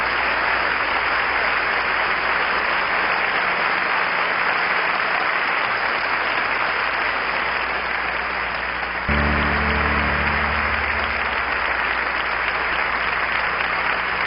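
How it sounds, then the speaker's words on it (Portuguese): A church congregation at an evangelistic service claps in a steady, dense roar of applause that stays loud throughout, with a deeper rumble of voices or room noise swelling in partway through. "Vamos aplaudi-los."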